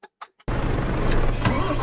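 A truck engine in a truck simulator video game turns over and then runs steadily at a loud, constant rumble after a few brief clicks and a short silence.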